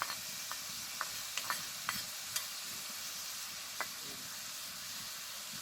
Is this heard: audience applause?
no